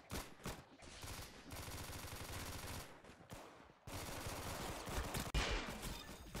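Bursts of automatic gunfire from a gun in the video game Fortnite, rapid repeated shots in several long volleys separated by brief pauses, loud and close with no talking.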